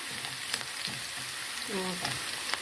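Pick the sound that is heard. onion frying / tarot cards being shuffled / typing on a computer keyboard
onion frying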